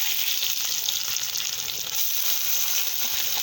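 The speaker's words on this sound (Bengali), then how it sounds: "এখন আমি বিটগুলো এর ভিতরে দিয়ে একটু ভেজে নেব ভালো করে।" Beetroot fries with onion and garlic in a pan, a steady, loud, bright sizzle that holds throughout with no pauses.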